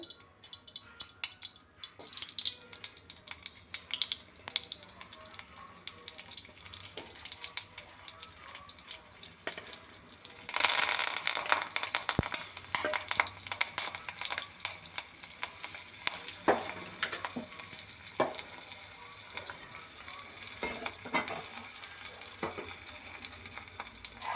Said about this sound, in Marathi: आता तेल घालायचं आणि फोडणी द्यायचं